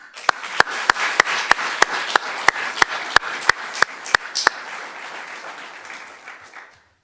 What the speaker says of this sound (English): I want to applaud them.